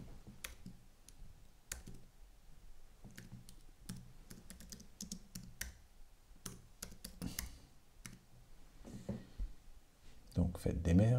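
Keys tapped on a computer keyboard while text is entered in Photoshop, irregular quiet clicks spread through the clip, mixed with someone speaking French, ending in a louder rustle.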